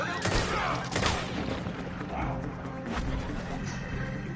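Gunfire in Red Dead Redemption 2 crackles in a few bursts of loud shots amid a shootout, with voices talking over the fight.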